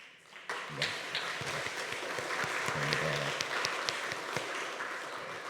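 A church congregation at a Sunday service claps in welcome, a soft, steady patter of many hands heard from a distance at fairly low level.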